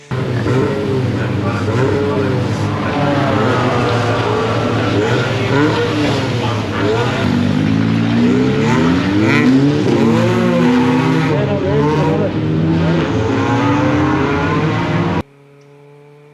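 Race car engines hum and whine continuously in the Brands Hatch GP pit lane during an MSVT SuperCup race, with several cars passing and revving, under steady commentary speech, cutting off abruptly near the end.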